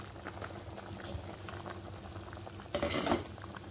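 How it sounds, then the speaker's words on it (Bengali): Curry gravy with fried paneer for a cashew paneer rasa, bubbling on the stove as a low, steady simmer, with a brief louder burst of stirring and splashing near the end, close and fairly quiet. "2-3 মিনিট সুন্দর করে আবার ফুটাই নেব, যাতে পনিরটির মধ্যে মশলাটা সুন্দর করে যায়"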